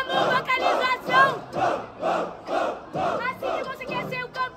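A crowd at a Brazilian street battle rap final chants and vocalizes in unison, loud rhythmic pulses about every half second, rising and falling across the whole stretch.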